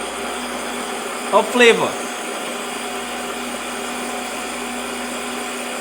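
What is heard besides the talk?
blender blending maple syrup garlic sauce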